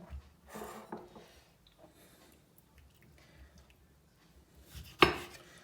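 Knife chopping zucchini on a cutting board: a few soft, quiet cuts near the start, then one sharp louder chop near the end, with near silence between.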